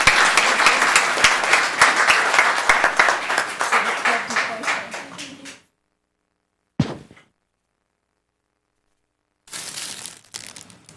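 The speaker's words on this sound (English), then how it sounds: "Round of applause." Audience clapping at a town council meeting, a dense burst of applause that fades out after several seconds, followed by a brief thump and then scattered shuffling noises.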